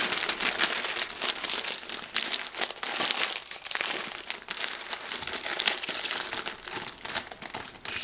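A bag of Flint rusks, cold-meat-jelly and horseradish flavour, crinkles and crackles loudly up close as it is worked open, a continuous dense rustling with sharp crunches and brief pauses, no talking.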